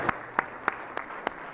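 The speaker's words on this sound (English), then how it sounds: "So big round of applause for Lesra powering through that" A few slow, separate hand claps at an education conference, about six sharp claps spaced evenly in under two seconds, close and fairly quiet with no talking.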